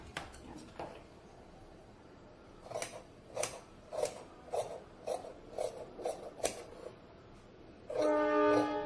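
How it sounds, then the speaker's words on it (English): Scissors snip through fabric for the front piece of a baby frock, a run of about eight crisp, evenly spaced cuts close to the mic, then a brief rasping rub at the end. "Take it out and cut"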